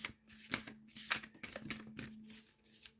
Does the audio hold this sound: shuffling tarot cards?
yes